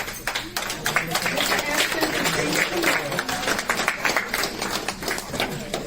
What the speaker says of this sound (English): Let's give a hand of applause to all the entertainment that we